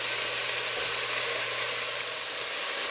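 Diced onion, carrot, celery and garlic sautéing in a pan give a steady, even sizzle that stays constant and close throughout, with no talking.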